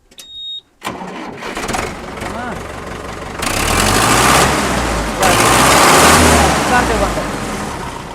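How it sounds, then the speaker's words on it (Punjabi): A tractor with a double pump, offered for sale in Barnala, cranks and catches sharply after a brief quiet, then settles into a loud, steady, rumbling idle that swells midway, with people talking nearby. "ਇਹਨੂੰ ਸਟਾਰਟ ਕਰਕੇ ਦਿਖਾਇਓ"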